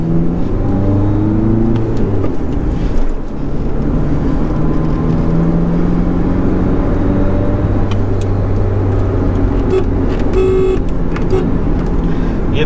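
A Skoda Yeti engine drones steadily while driving, its pitch rising and falling gently with speed, close and loud, with a brief horn toot near the end and occasional speech over it.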